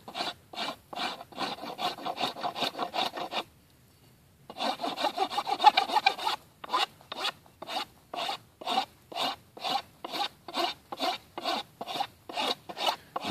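A wood rasp is pushed repeatedly along a wooden bow limb being shaped, giving rhythmic close rasping strokes, a run of quick passes, a brief pause, then more evenly spaced strokes.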